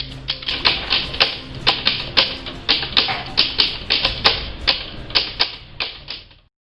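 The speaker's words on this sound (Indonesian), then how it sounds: "naskah proklamasi yang sudah dibuat Soekarno Hatta bersama pemuda langsung diketik oleh Sayuti Melik" A manual typewriter types out the Indonesian proclamation manuscript, with about twenty sharp, evenly paced key strikes in a steady clatter, close and alone.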